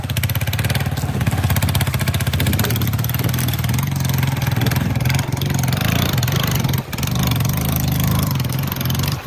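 A motorcycle engine runs loud and close, a steady rapid throb with rising revs, broken by one brief dip before the engine surges on again.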